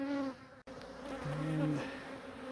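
Honeybees buzz around a hive exposed inside a brick wall, a close, shifting drone of several insects with rising and falling pitches passing near, alone and fairly quiet.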